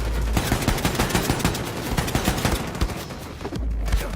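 Rapid rifle gunfire from the shooter game The New Colossus rattles off in dense, continuous bursts of sharp cracks, loud and close, with no talk over it.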